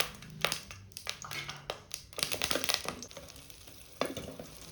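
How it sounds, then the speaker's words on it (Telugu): Green chillies frying in a little oil in a pan, with soft crackling and sizzling broken by a handful of sharp taps and stirring clatters, heard close and without any talk. "ఇప్పుడు కొద్దిగా ఆయిల్ వేసుకుందాం. పచ్చిమిరపకాయలని వేయించుకుందాం."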